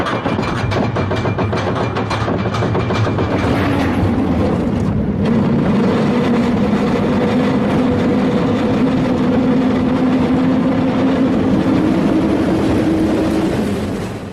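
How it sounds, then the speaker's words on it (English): Roller coaster ride at an amusement park in North Korea: a loud, continuous rattling rumble of cars running along the track, steady for the whole stretch with no voices. "I'm at an amusement park in North Korea and I'm gonna go on a roller coaster now"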